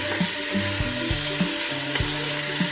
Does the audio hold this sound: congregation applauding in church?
no